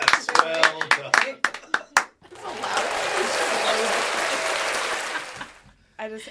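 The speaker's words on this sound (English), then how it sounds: "just hit my soundboard with a round of applause for you guys" A round of applause plays from a soundboard, preceded by a few sharp individual claps and voices, then a dense sustained crowd clapping for several seconds that fades out before a brief return of talk.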